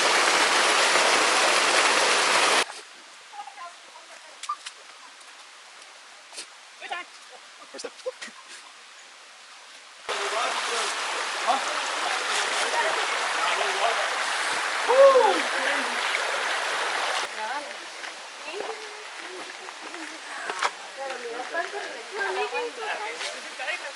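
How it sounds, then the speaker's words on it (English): A small waterfall and stream at Eaton Canyon give a steady rushing hiss, loud at first, then cutting out abruptly and returning for the second half, with voices talking over parts of it. "The little waterfall, little cheap waterfall."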